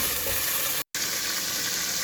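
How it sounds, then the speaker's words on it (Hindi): Mutton pieces fry with browned onions in a pressure cooker, giving a dense, steady sizzle close up that cuts out for an instant before carrying on. "अब इसको हम अच्छे से फ्राई करेंगे।"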